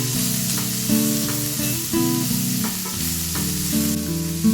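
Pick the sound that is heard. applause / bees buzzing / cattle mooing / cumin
cumin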